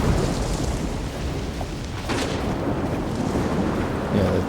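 Steady rain with low rumbling thunder from the weather of the video game STALKER 2 running a dynamic weather mod, a continuous dense wash of rainfall with a deeper roll swelling partway through and no talk over it.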